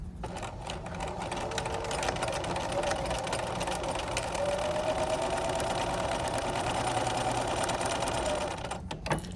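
A sewing machine runs steadily for about nine seconds stitching quilt pieces onto a foundation for a mug rug, a continuous close whir and hum with no talking.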